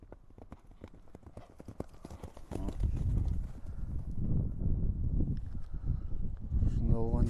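A horse, a Donchak and Chuy cross offered for sale, clip-clops along at a walk with steady repeated hoof strikes. It is close by, with louder rustling and movement later and a brief whinny-like sound near the end.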